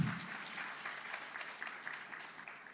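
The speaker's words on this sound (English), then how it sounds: "could we please have a louder round of applause for Puan Anis?" A conference plenary audience of teachers applauds in a steady, moderately quiet wash of clapping that runs the full length without talk.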